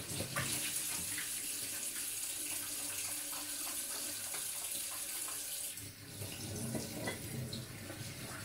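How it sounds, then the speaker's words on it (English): A faucet runs in a steady, close hiss of water for handwashing, continuous throughout with a brief dip in flow partway through and no talking. "I need to wash my hands"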